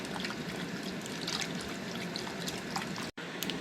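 Nutrient powder being stirred into a container of water for plant feeding, a continuous close swishing and trickling churn with a brief cutout near the end.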